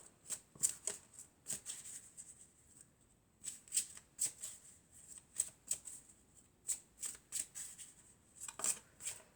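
An oracle card deck is shuffled and cut by hand, producing repeated crisp riffling and snapping bursts in an irregular rhythm. The sound is close, quiet and unaccompanied.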